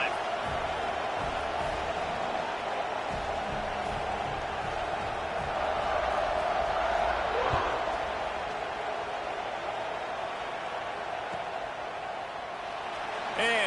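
A football stadium crowd cheers after a touchdown, a broad sustained roar that swells slightly in the middle, heard from a distance beneath commentary.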